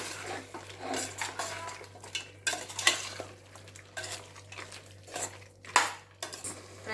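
Spoon scraping and clinking in a pot as masala paste of tomato, onion, ginger, garlic and coriander is stirred into an egg and chicken curry, irregular knocks and scrapes at close range with no talking.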